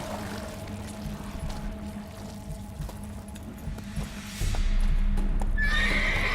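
A horse in The Witcher 3 whinnies loudly near the end, following steady clip-clopping hooves and harness jingles over a low ambient drone.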